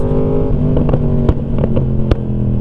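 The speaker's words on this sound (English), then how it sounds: "the only crackling you'll hear is from my exhaust" A motorcycle engine idles and revs steadily up close, with sharp pops and crackles from the exhaust breaking through the rumble.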